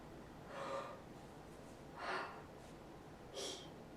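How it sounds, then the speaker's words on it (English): Three slow, deep inhalations for flute playing fill the lungs from the bottom up. Each is a soft, airy intake of breath, evenly spaced and close by, with quiet pauses between them. "So it's another way of breathing from the bottom up, but just another way of thinking about it to get an even fuller breath."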